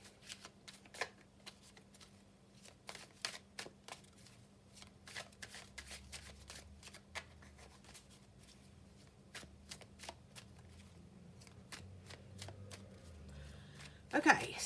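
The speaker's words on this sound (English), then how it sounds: "So let's just put down some cards and see what we've got to start off next week." Tarot cards from a well-used Faulkner deck being shuffled and laid down, a long run of soft riffling clicks and taps at close range, quiet, with a faint hum underneath and a louder clatter at the end.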